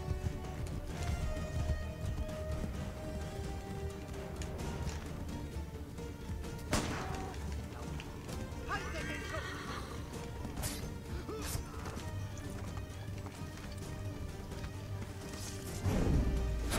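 A horse gallops in the Assassin's Creed 3 video game, its hooves clattering steadily throughout amid a dense wash of game sounds, with a few sharp knocks along the way.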